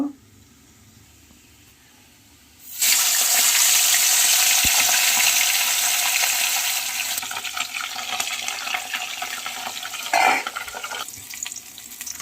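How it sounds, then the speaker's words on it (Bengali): A fish head frying in hot oil in a wok erupts into a loud, steady sizzle after a quiet start, crackling strongly throughout and easing slightly toward the end, with a brief sharper burst near the close. "মাছের মাথাটা ভালো করে ভেজে নেব।"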